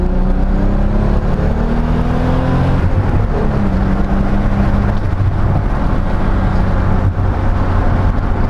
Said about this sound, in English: we're gonna do a second gear pull